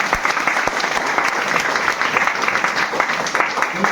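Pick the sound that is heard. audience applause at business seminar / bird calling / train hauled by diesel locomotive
audience applause at business seminar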